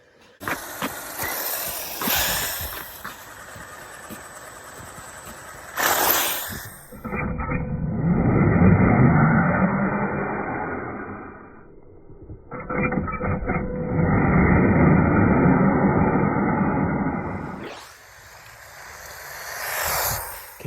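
A Redcat EPX Pro RC car driving at partial throttle, its electric motor whining and rising and falling in long runs with quiet gaps between, alongside handling and surface noise.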